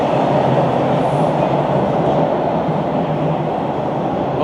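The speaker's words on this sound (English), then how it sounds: "Oh, there comes our train." A subway train pulls into a station with a loud, steady rumble and rattle of wheels on rails, close by and constant.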